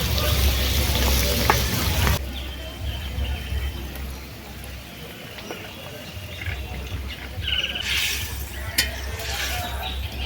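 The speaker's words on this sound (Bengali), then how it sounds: "এবারে ছোঁক দেব ভেজে রাখা মাছগুলো একে একে দিয়ে দেবো" Fried snakehead (shol) fish pieces dropped one by one into a sizzling tempering in a pan, a loud broadband sizzle that dips after the first pieces go in and swells again with bursts of spattering.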